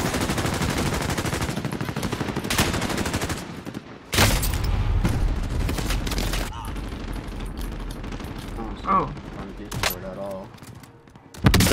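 P90 submachine gun fire in Call of Duty: Modern Warfare, dense rapid bursts of shots with other gunfire and game effects, loud and continuous over much of the span, with a voice talking over it.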